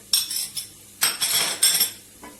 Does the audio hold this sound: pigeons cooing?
no